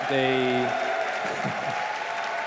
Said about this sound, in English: crowd going wild for OG